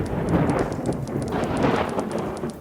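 Thunderstorm in the video game WorldBox: a continuous rushing wash of rain with low rumbling and a quick pattern of faint ticking above, steady and fairly loud throughout.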